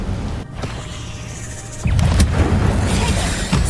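Incendio fire spell cast in the Hogwarts Legacy video game, a steady hiss that swells into a louder, dense burst of flame roaring alone.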